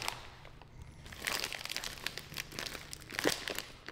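Kitchen paper crinkles and rustles as it is handled close up while preparing a frozen English muffin, with soft, irregular crackling bursts over about four seconds and no talking.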